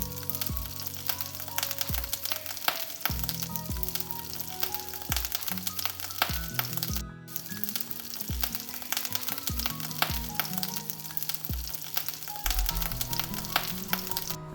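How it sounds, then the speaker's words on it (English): White butter with a little ghee melts in a hot pan for paneer butter masala, giving a steady close sizzle with scattered crackles and a few faint utensil taps, no talking. "Add the butter with a little bit of ghee or oil."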